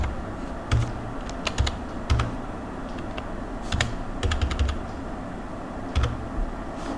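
Close computer-keyboard typing while values such as a name, age and salary are entered into a Java program: irregular clusters of crisp key clicks with short pauses between them, and no voices.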